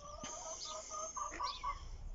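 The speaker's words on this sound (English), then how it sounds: "You might be able to hear in the background my chickens." Backyard chickens cluck and call out in a garden, a soft, steady run of short, repeated calls that sit near the listener.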